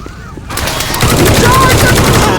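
Rapid automatic video-game gunfire rattles loudly and continuously in sharp repeated bursts, close up, starting after a brief quieter moment, with a voice faintly present.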